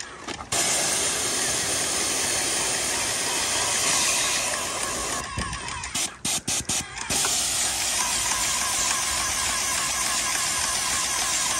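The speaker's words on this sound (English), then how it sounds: "I'm getting all of the storage lubricant out of it." Airless paint sprayer pumping storage lubricant out through a 50-foot hose, a loud, steady hiss and mechanical drone that runs almost unbroken, with a short stretch of choppy pulsing midway.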